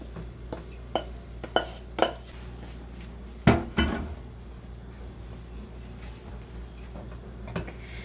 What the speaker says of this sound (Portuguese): Misturou aqui dentro da panela, vem misturando assim, ó.